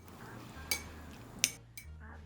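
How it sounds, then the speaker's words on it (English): Drained mochi balls being stirred into strawberry sauce in a bowl, heard as quiet, soft mixing with a few sharp clinks of a spoon against the dish. "Then we're going to drain the mochi balls and mix them in with the strawberries"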